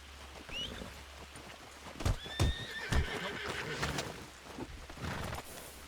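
In the Red Dead video game a horse whinnies and its hooves clop, with sharp thuds and a rising neigh amid other game noise, under quiet talk.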